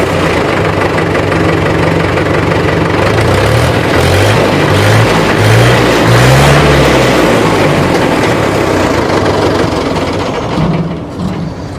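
A Mahindra 575 DI tractor engine idling steadily nearby, loud and continuous with a rhythmic mechanical knock and rattle and a slight rise in the middle, and no voices.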